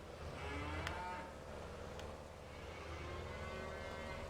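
Cows mooing in the farming video game Farming Simulator 22, a few low drawn-out calls, faint and somewhat distant over a steady background hum.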